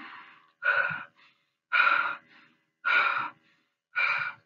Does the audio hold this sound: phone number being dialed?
no